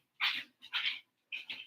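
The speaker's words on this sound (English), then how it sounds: "I'm sorry, that's my dog, one of my dogs." An old dog with failing hearing and vision gives three short, sharp barks in an uneven rhythm, close but fairly quiet, with no one talking over them.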